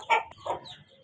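Chicks and hens of desi and Egyptian breeds give two quick, high clucking chirps close by, with quiet pauses between them.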